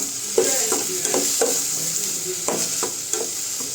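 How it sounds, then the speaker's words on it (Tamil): Onions sauté and sizzle in a pan for a prawn dish, a steady frying hiss broken by repeated scraping stirs of a spatula, close and fairly quiet with no speech. "ஆனியன் வதக்கிடுங்க."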